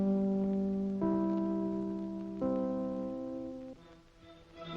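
NBC radio network chimes ring out in a slow three-note sequence, each clear bell-like tone struck in turn and left to ring and decay, with no voices.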